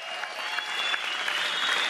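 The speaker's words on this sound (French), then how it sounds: "Il quitte la scène sous les acclamations d'un public conquis d'avance." A theatre audience cheers and applauds as a comedian leaves the stage, a continuous wash of clapping at moderate level with no talk over it.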